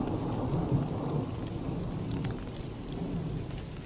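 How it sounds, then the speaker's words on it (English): Deep thunder rumbles steadily through heavy rain pattering on surfaces along an uphill walk, a continuous loud wash of rain with rolling low thunder throughout. "Hear the thunder?"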